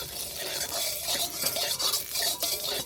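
A spoonful of ghee is spread around a pan with a spoon for motichur laddu, giving a steady close scraping and stirring rustle with a faint sizzle underneath, with no voices.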